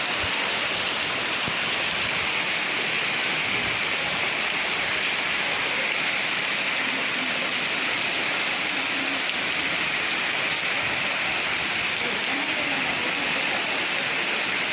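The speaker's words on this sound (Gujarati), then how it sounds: "આ ફૂલ વરસાદ ચાલી રહ્યો છે" Heavy rain pours steadily in Porbandar, India, a dense, even hiss of drops hitting surfaces throughout with no letup.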